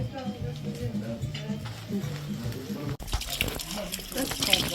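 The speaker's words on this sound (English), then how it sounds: "That's cold water." Cold mountain spring water runs and splashes steadily nearby on a roadside stop in Bulgaria, a continuous gush that grows brighter and louder partway through.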